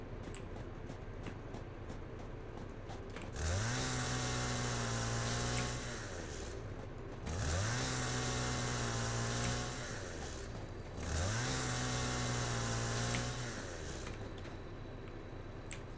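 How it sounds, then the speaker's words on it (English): Chainsaw felling trees in the video game Satisfactory, three separate bursts of about two seconds each, every one revving up to a loud buzzing drone and then dropping off, with quieter gaps between them. "let me know if the volume of the chainsaw is too loud"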